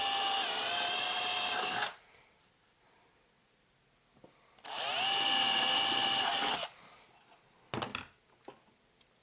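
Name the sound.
drill making holes in metal chassis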